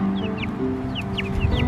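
Chickens cluck close by, two young roosters and a small hen giving short, repeated rising calls over a steady low background hum.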